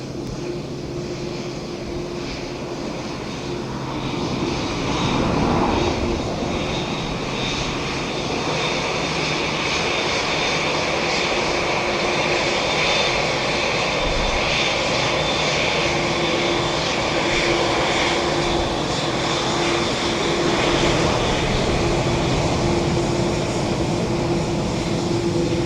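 A Qatar Airways airliner at Dublin Airport produces a steady, loud engine roar with a sustained whine, swelling slightly after a few seconds and holding constant throughout.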